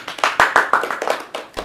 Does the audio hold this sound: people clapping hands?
yes